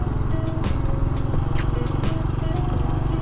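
A Honda Astrea Impressa motorcycle engine runs steadily with a close, rough putter, mixed with occasional light scraping and clicking sounds.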